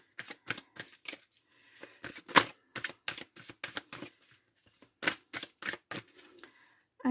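Tarot cards are laid down over other cards on a table, making quick, soft snaps and slides in irregular clusters. Close and fairly quiet, with no voices.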